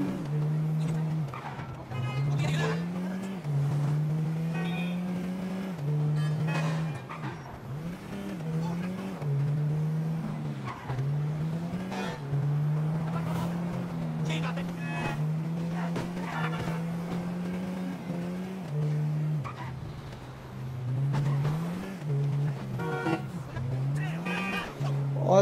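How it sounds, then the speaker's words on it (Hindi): A car engine in GTA 5 revs and accelerates hard, a loud sustained drone with repeated rising and falling pitch sweeps as it shifts through gears, continuous for the whole stretch with faint voice-like sounds mixed in. "दबा देते गाड़ी एक्सीलेटर कस के"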